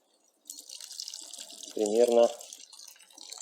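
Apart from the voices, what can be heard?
pouring boiled kettle water onto rice in a kazan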